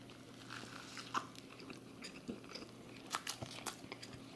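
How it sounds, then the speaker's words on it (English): An Arby's A.1. steak sandwich bitten into up close, with crunchy bites and chewing, crinkling wrapper and soft mouth sounds repeating over about four seconds, with no talking. "So let's give it an initial bite."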